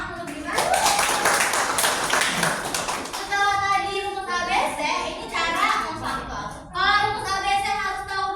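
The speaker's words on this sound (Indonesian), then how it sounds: "Beri tepuk tangan untuk Dimas" A classroom of students claps for a classmate named Dimas, a brisk burst of hands lasting about three seconds. It gives way to a teacher's voice speaking close by.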